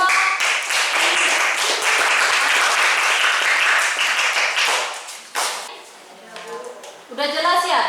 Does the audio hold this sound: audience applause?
yes